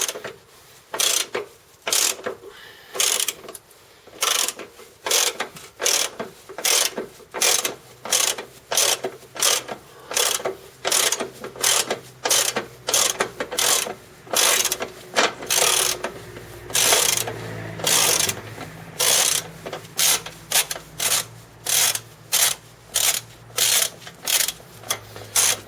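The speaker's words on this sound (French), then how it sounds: "on va commencer par desserrer le boulon ici, c'est une douille de 13" A ratchet with a 13mm socket loosens the bolt on the accessory belt tensioner of a Renault Clio 2 1.5 dCi during alternator replacement, giving close, loud bursts of rapid clicking in a steady back-and-forth rhythm.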